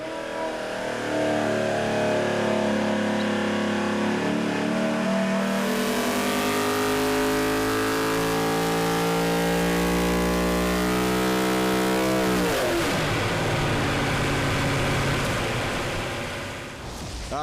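A V8 Supercar race engine on a dyno revs hard, its loud rising pitch climbing in long sustained pulls, then cutting abruptly to a rough, burbling, lumpy drop-off near the end.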